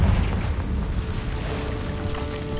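A Confringo blasting spell goes off in a cave in the game Hogwarts Legacy, a dense low rumbling boom that rolls on steadily as a loud, continuous roar for a few seconds with no talk.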